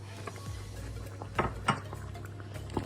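A spoon stirs roasted cashews into carrot halwa cooked with ghee in a metal pan, producing several clinking scrapes against the pan over a steady background hum.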